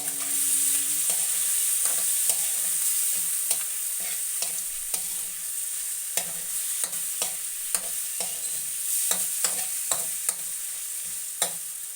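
Chicken tinola with black pepper is stirred in a pot over a steady sizzle, a spoon tapping and scraping the metal in irregular clicks throughout.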